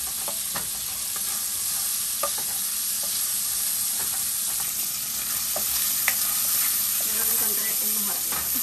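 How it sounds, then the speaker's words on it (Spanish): Bacon frying in its own fat with no oil added, giving a dense, constant sizzle and hiss close up, with scattered pops and a few stirring scrapes. "Seguimos sofriendo el bacon en su propia grasa, no le he echado nada"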